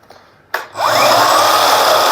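A Festool Kapex KSC 60 cordless miter saw motor spins up after a sharp click, then holds a steady, fairly loud whine without reaching full speed, alone with no talk.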